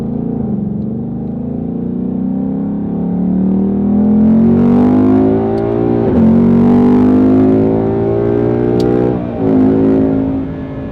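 Ford Mustang GT V8 exhaust roars loudly and close up as the car accelerates through the gears, the engine pitch rising in sweeps with brief drops at each shift.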